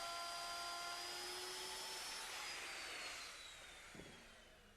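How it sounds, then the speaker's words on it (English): Router fitted with a 1-inch roundover bit shapes the end of a wooden stair tread, a high steady whine that fades as the cut finishes and the motor winds down, with a small knock near the end and no talking. "I need to route the end of the tread to the same profile that's on the front"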